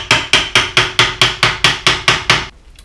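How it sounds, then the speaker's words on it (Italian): Ten evenly spaced hammer blows drive the last interlocking board into place on a wheeled fire extinguisher being turned into a speaker, each strike sharp and loud at a steady rhythm, then quiet. "l'ultima avrà bisogno di qualche martellata per andare in posizione"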